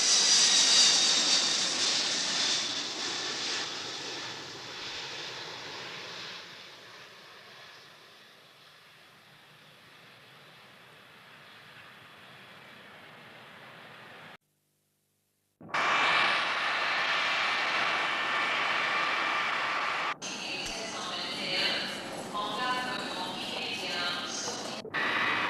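Laker DC-10 airliner engines in flight, a steady wide roar heard from inside the cabin that fades down, cuts out briefly, then returns loud with some cabin noise.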